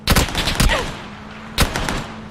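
Gunfire in the battle royale game PUBG: a quick burst of sharp, loud shots, a pause, then one more crack, close and punchy with no voices.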